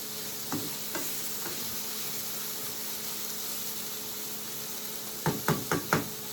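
Smoked bacon fat crisps in a pan with a steady, even sizzle throughout, broken by a few soft clinks of a utensil early on and a quick cluster of knocks near the end.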